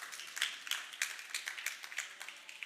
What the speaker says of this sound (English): Maybe give them a hand of applause again.